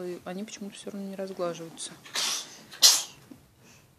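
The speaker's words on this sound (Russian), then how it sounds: "Дочка чихает." A young girl sneezes once, sharp and fairly close, just after a woman's speech in a quiet indoor room.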